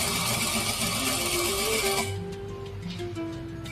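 A sewing machine runs steadily while stitching a chudi neck on canvas, its motor whirring loud and close, then easing to a lower hum as the stitching slows near the end.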